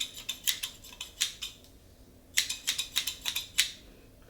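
Scissors snip repeatedly through curly hair at a salon, crisp close-up cuts coming in quick bursts of several snips, a pause, then another run, with no talking.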